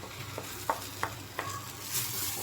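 Moong dal paste frying in a pan, a soft continuous sizzle punctuated by a few evenly spaced scraping strokes of a spatula, close and moderately quiet.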